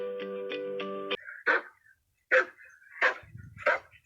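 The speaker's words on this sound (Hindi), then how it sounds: "अगला चित्र है कुत्ते का, और कुत्ता कैसी आवाज़ करता है? आइए सुनते हैं।" A dog barks several times in separate, sharp bursts with short gaps between, close and clear, after a brief tonal musical jingle at the start.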